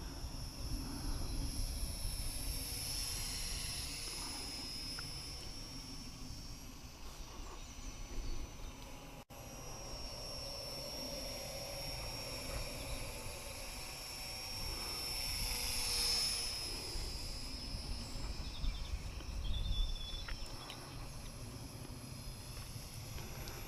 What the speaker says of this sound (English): Lovely little plane, lovely.